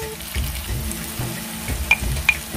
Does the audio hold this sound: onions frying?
yes